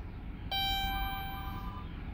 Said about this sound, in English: You're gonna hear a ping.